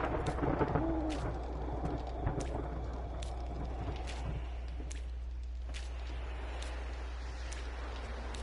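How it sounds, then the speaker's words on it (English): Steady storm ambience in the survival game 7 Days to Die, with a continuous low rumble and wash of rain-like noise and scattered sharp cracks. It holds an even level throughout and no one speaks. "Just always seems to want a fucking storm when I'm trying to do this."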